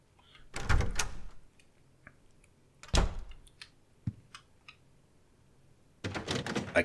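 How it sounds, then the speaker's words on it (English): A locked door that won't open in the video game Silent Hill 4 rattles and thuds as it is tried, two heavy close knocks with a few smaller clicks between and a rattling burst at the end. "I can't open this door."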